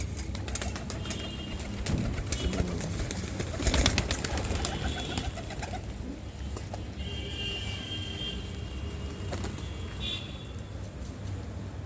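Pigeons coo softly and steadily after being fed, over a busy background of fluttering, shuffling and scattered clicks, with a few brief chirps.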